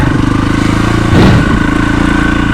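A motorcycle rides through ruts on slippery trail ground, its engine droning steadily under constant power with a short louder surge and rattle midway, close and loud.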